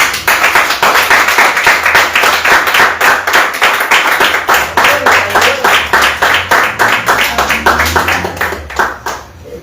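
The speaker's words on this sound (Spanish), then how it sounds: "Dale fuerte palmas a Cristo" A church audience claps loudly and rhythmically in unison for Christ, fast even beats repeated close together for nearly ten seconds before trailing off at the end.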